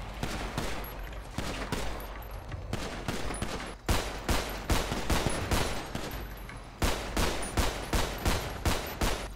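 Rapid bursts of Grand Theft Auto V gunfire crackle loudly and continuously, with sharp repeated shots and brief pauses between volleys, no talking.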